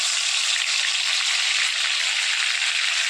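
Tomatoes, garlic and green chillies frying in hot oil give a steady, loud, close sizzle that holds evenly throughout, with no voices.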